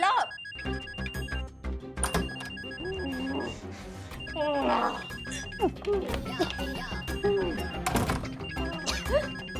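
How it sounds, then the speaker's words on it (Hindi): A telephone rings in repeated electronic trills while someone talks over it; the ringing keeps going and nobody picks up. "फोन नहीं उठा रही है।"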